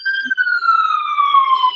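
A siren wails on a city street in New York, one loud, steady tone sliding gradually downward with no voices over it.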